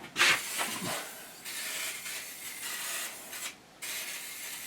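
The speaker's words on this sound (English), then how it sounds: "I'm just going to give this a spray inside with a bit of WD-40" WD-40 aerosol is sprayed inside a BS350 machine during maintenance: a close, airy hiss in a few uneven bursts, the first short and sharp, then longer steady spraying with a brief pause before a final stretch.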